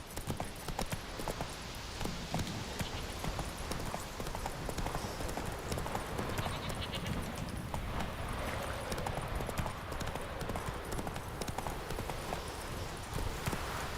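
Horse hooves galloping in the video game Witcher 3, a fast continuous clatter of hoofbeats that stays steady and close throughout.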